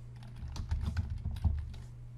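Typing on a computer keyboard while filling in a resume in Microsoft Word: a quick, uneven run of close, crisp key clicks with a low steady hum underneath and no talking.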